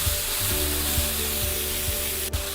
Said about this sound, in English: You see that the chili is also frying, so it is imparting its nice flavor to the vegetables.